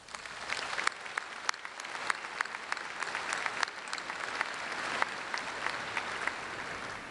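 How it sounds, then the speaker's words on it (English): Sustained applause fills a hall at a Spring 2019 Spears School of Business commencement ceremony, many hands clapping steadily with sharp individual claps standing out. "So let's give them a round of applause."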